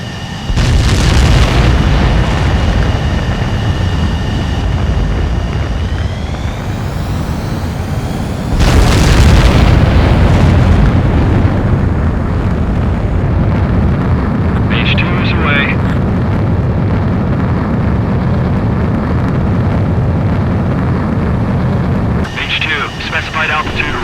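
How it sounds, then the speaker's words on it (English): A fighter jet takes off in the video game Ace Combat 7, its engine roaring loud and continuous through the whole stretch and building to a heavier surge midway, with a voice speaking over it at times. "H2, begin takeoff sequence."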